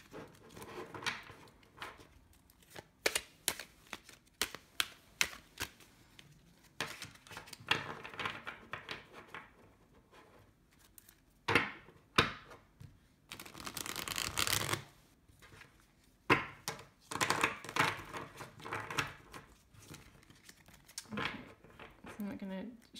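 A new tarot deck, its cards slightly sticky, is shuffled in bursts of quick riffling and rubbing close to the microphone, while a person talks intermittently between the shuffles.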